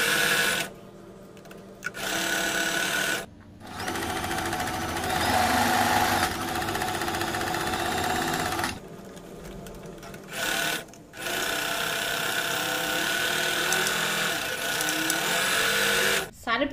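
Sewing machine stitching cut fabric pieces for a butterfly quilt pattern, running in several loud steady bursts separated by short pauses, with a voice speaking between stretches.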